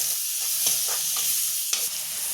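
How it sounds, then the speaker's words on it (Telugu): A spoon stirs a spiced mixture in a frying pan, giving a soft steady sizzle with a few scraping strokes and one sharper knock, close up with no talking. "ఇప్పుడు బాగా కలుపుకోవాలి."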